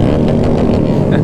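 Small motorcycle engine, a Grom or Z125, revving hard at full throttle without the clutch, loud and close with a buzzing, pulsing tone over one short burst, with a voice talking over it.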